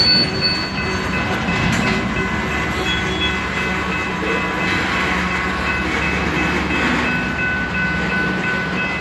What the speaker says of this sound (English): And now the train's coming to another halt.